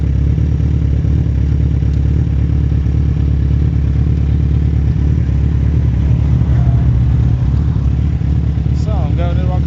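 A motorcycle rolls along a mountain road on Kefalonia, its engine a steady loud drone with wind buffeting the mic throughout, and a faint voice showing briefly under it.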